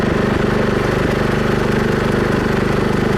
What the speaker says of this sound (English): When you're ready to blow the snow, you turn the auger on